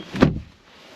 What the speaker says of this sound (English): Very solid sounding doors